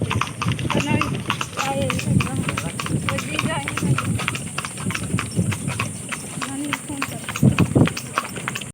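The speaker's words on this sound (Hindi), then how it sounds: "घोड़ा गाड़ी पर हम लोग बैठे" Horse hooves clip-clop steadily on a horse-drawn carriage ride on the way to the glass bridge at Rajgir, a continuous close rhythm running under people talking.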